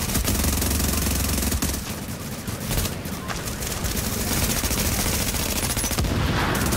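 Dense, continuous gunfire from rogue agents in The Division's Dark Zone, loud and close with rapid automatic bursts layered over one another and no let-up, with a hint of voices beneath.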